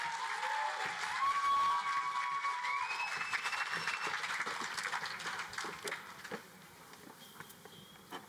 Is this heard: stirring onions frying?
no